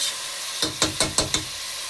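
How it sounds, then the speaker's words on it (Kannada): Three large slices of tomato dropped into a hot pan over browned onions, giving four or five sharp sizzling bursts in a quick sequence against a steady background hiss. "ಟೊಮೊಟೊನ 3 ತೊಗೊಂಡಿದ್ದೀನಿ. ಎಲ್ಲ ದೊಡ್ಡದಾಗೆ ಸ್ಲೈಸ್ ಮಾಡಿ ಹಾಕ್ತಿದ್ದೀನಿ."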